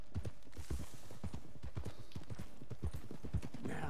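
Rhythmic clip-clop of horse hooves at a steady riding pace in Red Dead Redemption 2, close and continuous, with a brief breathy snort near the end and no talking.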